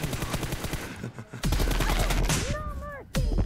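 Rapid gunfire bursts from a mobile shooter game in a one-on-one team deathmatch, with sharp repeated shots, a heavy boom near the middle and a brief electronic chirping tone late in the passage.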